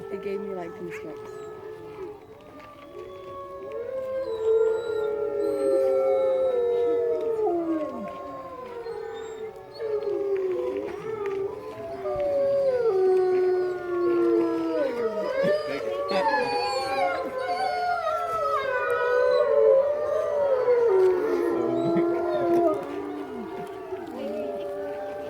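Wolves at a Colorado wolf and wildlife center howling in a long overlapping chorus, rising and falling wails layered together, with people talking faintly beneath.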